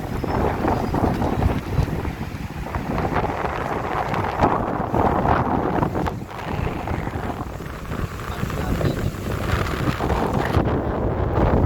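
Wind blows steadily across the microphone, a loud continuous rumble and buffeting throughout, with no other clear sounds.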